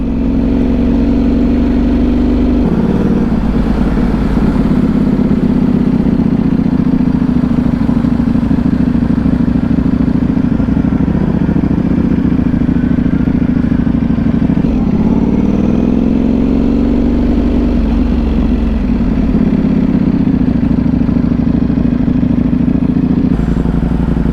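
A 2025 Ducati V4S motorcycle engine drones loudly and continuously while riding in road mode, with heavy wind rumble and shifts in pitch as the revs rise and fall.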